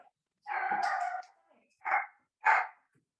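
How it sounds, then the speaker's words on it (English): A dog barks three times nearby, one longer, drawn-out bark followed by two short, sharp ones with brief pauses between. "Now he's barking because now we're talking about burgers."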